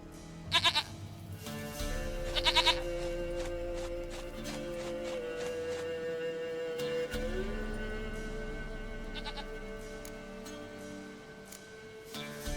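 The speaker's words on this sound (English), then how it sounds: "Goat of mine! Dearest, sweetest goat!" A couple of short, shaky goat bleats near the start in the video game The Witcher 3: Wild Hunt, then a sustained droning tone with faint clattering and hoofbeat-like taps in the background.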